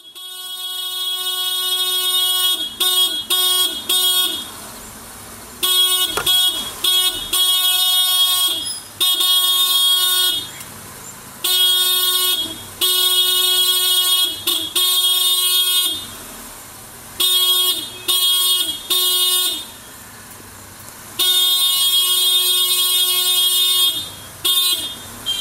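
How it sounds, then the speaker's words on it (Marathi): Vehicle horns honking over and over in heavy traffic in Goa, loud and close, with long sustained blasts broken by short gaps and overlapping toots, no voices. "पळयात हांगा गाडयांचे हॉर्न कितले गरजेचे ते."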